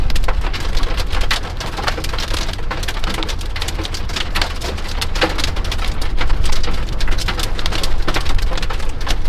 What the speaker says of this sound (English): Give me rain. Well, not that much. I don't need that much rain.